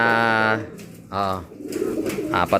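Racing pigeons in a loft coo with low, repeated calls, loud and close, a long coo at the start and another after a pause, with a voice talking in the background.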